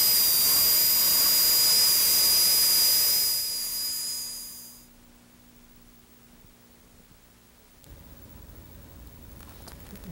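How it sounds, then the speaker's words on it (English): Dental handpiece hollow-grinding the lingual enamel surface of a central incisor for an anterior bridge preparation, a loud high-pitched hissing whine that runs steadily for about four seconds, then cuts off, leaving faint background noise. "hollow grinding the incisor so we have a bulk of metal"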